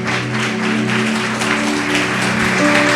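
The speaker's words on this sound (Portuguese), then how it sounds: "Louve ao Senhor com as suas palmas." A church congregation claps in praise during a Brazilian evangelical service, steady loud group clapping that carries on throughout over sustained music tones.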